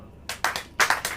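A church congregation claps hands, a few sharp, close claps in an uneven burst, with no talk over them.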